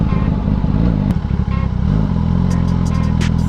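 A Kawasaki Ninja ZX-10R KRT Edition sport motorcycle rumbles loudly and close up near a beach, its engine note wavering as it rolls, with a few light clatters toward the end.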